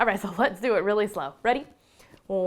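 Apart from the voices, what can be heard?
No distinct noise like a dog, phone or traffic.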